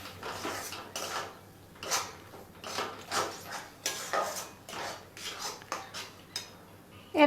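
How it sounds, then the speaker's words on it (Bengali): A spoon stirring boiling palm fruit pulp in a pot, a run of close clinks and scrapes against the metal in an uneven rhythm, over a low steady hum. "ফুটতে শুরু করেছে, নাড়তে থাকবো।"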